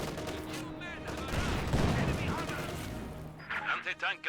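Rattling bursts of infantry gunfire in the Company of Heroes 2 war strategy game, crackling volleys over a rumbling battle background, with a narrating voice talking over it.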